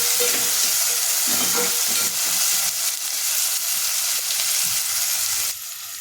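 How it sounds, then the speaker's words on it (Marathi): Tomatoes and softened onion sauté in a pan for a mustard greens dish, with a close, constant sizzle and hiss. Scraping stirs come and go, and the frying drops off sharply near the end. "टोमॅटो पण आपल्याला छान परतून घ्यायचे आहे"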